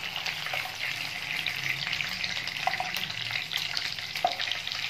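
Koftas deep-fry in hot oil with a continuous, even sizzle and crackle, steady and close with occasional louder pops.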